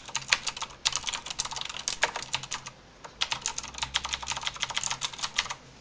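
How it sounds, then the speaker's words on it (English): Rapid, steady clicky keystrokes on a Razer Blackwidow mechanical gaming keyboard, close and crisp, with a brief pause midway before the typing resumes. "It's a bit of a loud keyboard, because, well, as I said, it has a click and then a clack."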